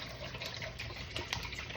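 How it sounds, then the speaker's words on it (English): Water pours into a bowl holding cut potatoes, ice and sea salt for homemade fries, a steady close splashing gush that continues throughout without voices. "Add your water."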